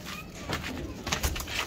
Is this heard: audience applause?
no